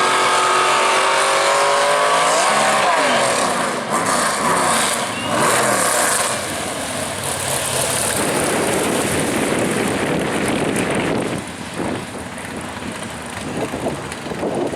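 A drag racing car makes a solo pass down the left lane at Worldwide Technology Raceway, a loud engine roar that climbs through rapid gear changes and fades down the track, with rough broadband noise trailing after.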